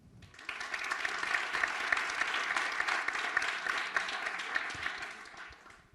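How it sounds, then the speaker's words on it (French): Applause from an audience at a French talk on making digital technology accessible, rising quickly and sustaining a dense, even clatter of many hands before tapering off at the end. "sous vos applaudissements"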